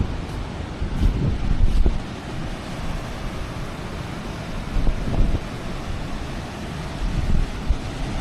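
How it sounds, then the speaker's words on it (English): Strong wind buffets the microphone on a beach at Ballito, with a steady rumbling roar and louder gusts near the start and again midway, over a faint wash of surf. "It is very windy though."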